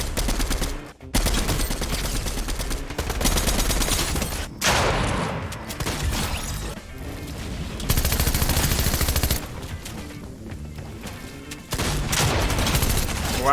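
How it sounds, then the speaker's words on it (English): Heavy shotgun blasts and other gunfire in a Fortnite match, loud, dense and continuous with rapid overlapping shots and brief gaps, with no one talking over it. "I can't believe I missed that shot. The heavy shotgun sucks."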